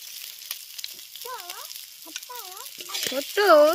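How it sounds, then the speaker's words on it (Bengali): Fish frying crisp in oil on an outdoor clay stove makes a bright, continuous sizzle, with short tonal voice-like calls rising over it now and then. "মাছগুলো বেশ কড়া কড়া করে ভাজা হয়েছে"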